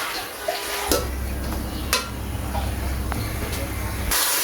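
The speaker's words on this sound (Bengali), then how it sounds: "এখন ভালো করে নেড়ে ছেড়ে দিতে হবে" Onions frying in half a cup of hot oil in a pot as they are stirred: a loud, continuous hiss with a few scraping knocks from the stirring, under brief voices.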